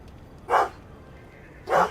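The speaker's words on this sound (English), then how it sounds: "Hey guys, stop barking." Two sharp dog barks, one near the start and one near the end, separated by a quiet pause.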